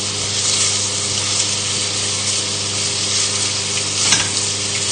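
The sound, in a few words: pork pieces sizzling as they are turned in a pan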